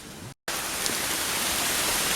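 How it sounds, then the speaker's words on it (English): Steady rain falls outdoors in a dense, even hiss with no voices, briefly cut off by a short gap near the start before continuing unbroken. "It's raining right now."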